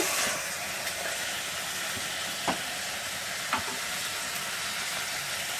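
Gongura mutton curry with sorrel leaves fries in a hot pan while being stirred, giving a loud, steady sizzle with a few sharp utensil scrapes and clicks scattered through it.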